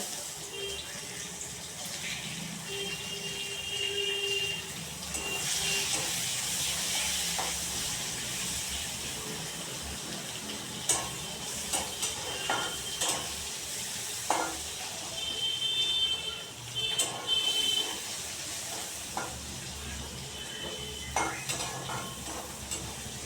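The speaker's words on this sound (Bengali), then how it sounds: "ভাজা হয়ে গেছে দেখুন একটু লালচে লালচে হয়ে গেছে" Steady sizzling hiss of a small onion frying in a pan until reddish, with occasional clinks and scrapes of a utensil stirring; no voices.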